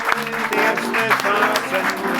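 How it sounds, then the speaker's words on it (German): Brief applause for a performer at a live Wienerlied evening, clapping mixed with lingering voices and musical tones, loud and close. "Applaus für Patrick, meine Herrschaften."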